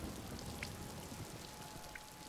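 Steady rainfall in the video game Yakuza Kiwami, an even wash of drops pattering on surfaces with a few sharper splashes, quiet and continuous with no voices.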